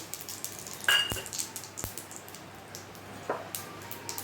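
Shahi jeera dropped into hot oil for tempering, giving a soft steady sizzle with a few sharp clinks of a utensil against the pan, close and fairly quiet, with no voices.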